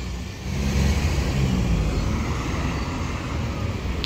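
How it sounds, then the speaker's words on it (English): A Newcastle double-decker bus pulls in at Blackett Street with a loud, steady engine drone and low rumble that swells after a quiet start and holds near and constant. "And there is another double-decker coming in."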